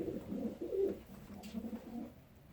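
A late-bred racing pigeon hen coos softly in low, rolling bursts, close by, with faint background noise and no talking.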